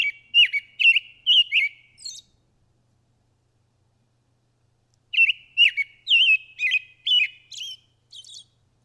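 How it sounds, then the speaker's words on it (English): A black-throated blue warbler sings two bursts of high, buzzy notes in quick series, each rising at the end, separated by a few seconds of silence. "Black-throated blue warbler. Song contains a series of 3 to 7 buzzy notes with the last slurred upwards."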